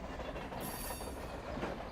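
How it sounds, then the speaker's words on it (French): A freight train rolls at speed along rails atop a six-metre embankment beside houses, giving a steady, loud, continuous rumble with a brief high metallic squeal partway through. "Les trains roulent à vive allure sur un remblai de 6 mètres de haut."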